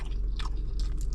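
Crunchy fried chicken being bitten and chewed up close, with a couple of crisp crunching bursts over a low steady background hum.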